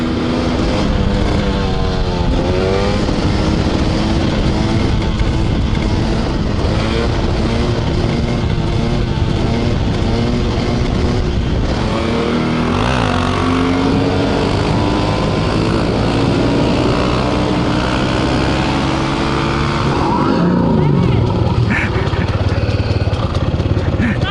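A motorcycle engine runs loudly and close during a street ride, its pitch climbing and falling as it revs through the gears. Wind noise rushes over it throughout.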